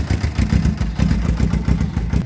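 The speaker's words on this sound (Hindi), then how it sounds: "इंजन नॉइस को चेक करें, कोई वियर्ड इंजन नॉइस नहीं होनी चाहिए किसी किस्म की।" A Suzuki GS500 motorcycle engine idles loud and close, a steady low pulsing thrum with a slight mechanical clatter throughout.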